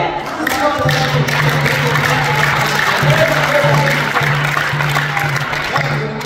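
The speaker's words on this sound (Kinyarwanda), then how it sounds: "Reka kandi kurinde amashyi." A church congregation at a praise and worship service breaks into applause: a dense, continuous wash of clapping from a crowd filling the whole stretch, loud and sustained, with a low steady hum beneath it.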